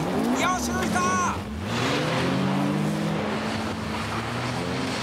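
Small race cars, including a Starlet, City, Civic, Sunny, MR2 and 300ZX, drive and overtake on a snowy track. Engines drone loudly and steadily, with rising and falling revs as cars pass, while a commentator talks over them.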